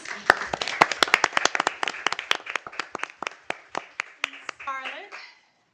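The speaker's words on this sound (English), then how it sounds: "So if you could give her a round of applause." A small group at a school board of education meeting gives a round of applause, sparse and distinct claps that thin out and end, with brief speech near the close.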